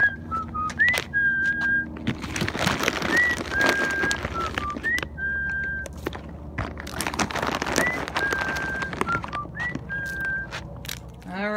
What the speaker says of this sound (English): I gotta do my whistle.